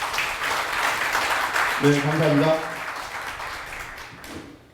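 Applause rings out from a crowd at a party members' convention in Ulsan, a steady wash of clapping throughout, swelling briefly near the middle while someone speaks over it.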